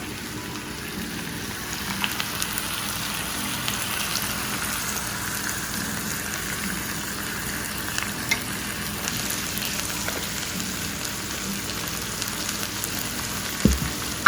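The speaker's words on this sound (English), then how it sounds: "Now I'm going to be putting my orange ginger sauce on it." Pork chops fry in a pan as orange ginger sauce goes in, producing a continuous close sizzle with scattered small pops and spatters, and no voices.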